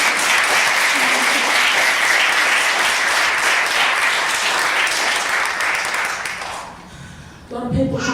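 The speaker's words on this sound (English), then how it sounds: "Can we just give another round of applause?" A gallery crowd at an Aboriginal poetry open mic night gives a full round of applause, dense and steady before thinning out near the end, when a voice begins to speak.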